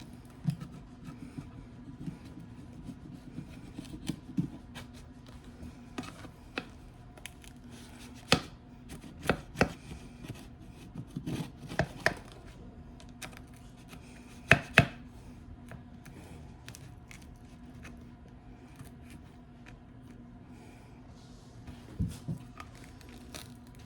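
A knife cuts through a hot homemade pizza in a series of sharp, scattered chops and crunchy slices, close and fairly quiet with pauses between cuts, no voices.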